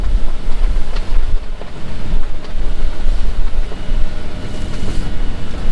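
A strong headwind roars across a sailboat motoring out, with a steady, loud rush of wind buffeting the microphone and a low rumble underneath, continuous and without pause.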